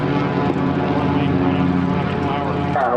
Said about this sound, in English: 206 is going to follow the other Cessna and come off the lake.